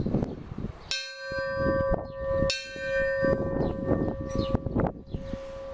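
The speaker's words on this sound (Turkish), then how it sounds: "Şurada bir çanı var. Çanı çalmak istiyorum." A ship's bell aboard a decommissioned warship rings out in three sharp metallic strikes, each leaving a long bright ringing tone over background bustle.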